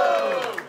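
Short burst of crowd noise from a Brazilian rap battle audience at the Batalha do Coliseu, a loud sustained roar with voices and cheers that tapers off in under a second.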